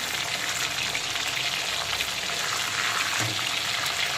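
Pomfret fish fries in a pan after being flipped, a loud continuous sizzle with crackling spatter and a brief low knock midway.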